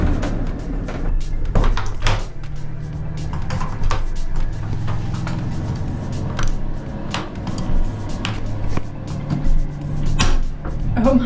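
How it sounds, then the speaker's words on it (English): Toilet room door aboard a Star Wars themed starcruiser cabin, shut and opened with several sharp clicks and thumps over a steady low hum, with a voice speaking nearby. "you've got the toilet room with a door that closes"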